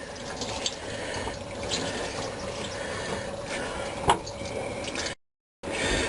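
Coolant draining from a 1995 Ford F-150 pickup radiator into a drain pan, a steady splashing trickle with one sharper drip, then a short gap of silence before the flow resumes.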